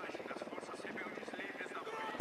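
A deployable drone from the video game Ghost Recon Wildlands whirs with a steady, buzzing rotor hum that holds evenly throughout, close and moderately loud, with no talking over it.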